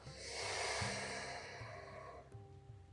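A slow exhalation during a breathing exercise: one soft, breathy rush of air close to the ear that swells and then fades away.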